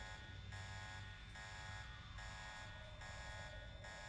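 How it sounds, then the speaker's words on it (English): An alarm blares in the video game Deus Ex, a loud electronic tone that pulses in a steady on-off rhythm of about two cycles a second and continues throughout. "Watch it, that's him, sounding the alarm."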